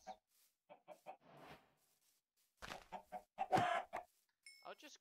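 Minecraft chickens clucking in short, scattered bursts, some brief and faint, others louder and bunched together, with quiet gaps between calls.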